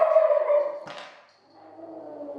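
A grumpy pet dog gives a short whining, yipping vocalization, followed by a sharp bark-like burst and a lower, lingering whine, close and alone indoors in a home.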